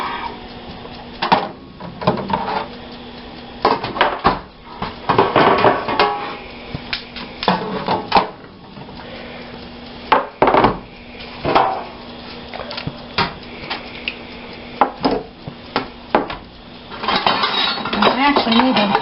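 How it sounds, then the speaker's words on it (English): Sauce scooped into metal pans with utensils while batch-cooking freezer meals at home: repeated clanks and scrapes of metal on metal in irregular bursts, close and fairly loud, with quieter handling between. "Put it in each of these pans."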